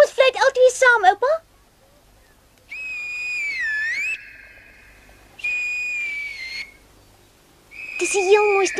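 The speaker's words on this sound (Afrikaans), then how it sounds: "Kom ons fluit altyd saam, oupa." A child and an elderly man whistle together, a quick trill of rising and falling notes followed by long held whistled tones with pitch bends, separated by quiet gaps, close and clear.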